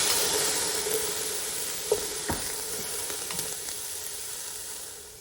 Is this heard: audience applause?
no